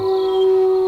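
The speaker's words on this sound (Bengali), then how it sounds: "শিয়ালের ডাক শুনলাম।" A jackal howls in a cartoon sound effect, one loud, sustained, steady-pitched wail at night near a bush, close and alone.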